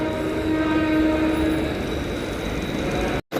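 A Mumbai local train on the CSMT to Ghatkopar slow line rumbles steadily and loudly close by, a sustained horn-like tone ringing over the constant rail noise before a brief cut near the end.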